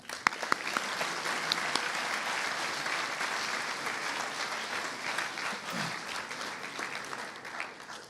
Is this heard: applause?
yes